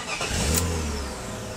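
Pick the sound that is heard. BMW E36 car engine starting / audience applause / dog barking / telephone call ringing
BMW E36 car engine starting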